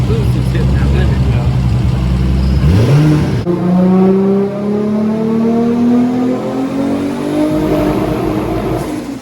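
A Toyota Supra engine revs hard into its boost limit, a loud close whine that sweeps steadily upward in pitch, drops briefly, then climbs again for several seconds.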